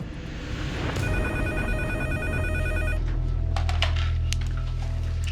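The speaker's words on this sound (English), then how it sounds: "I get a phone call from Edgar" Telephone ringing indoors, a repeating electronic ring that starts after a second and continues under low background hum, fairly quiet, no voices.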